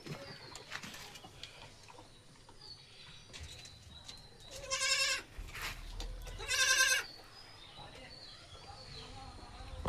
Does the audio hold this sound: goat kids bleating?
yes